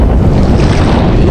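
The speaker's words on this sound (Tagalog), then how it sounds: "Medyo mahangin po ngayon ah" Loud, steady wind roaring across the microphone by open water, with a continuous low rumble and no voices.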